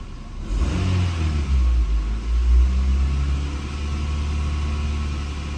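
Engine of a 1995 Honda Integra SiR II revs up from idle in a couple of quick blips, then settles back into a steady, smooth idle hum, heard close with no voices.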